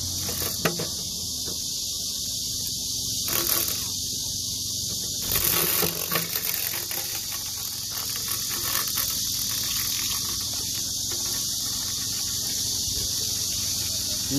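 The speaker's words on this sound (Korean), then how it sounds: "어, 이번에 수컷입니다. 수컷 말매미." Male black cicadas (말매미) on summer trees drone in a loud, steady buzz that runs the whole time, with brief pulsing gaps early on and a faint voice now and then in the background.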